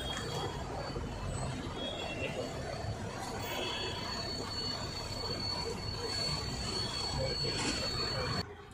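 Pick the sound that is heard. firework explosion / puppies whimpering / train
train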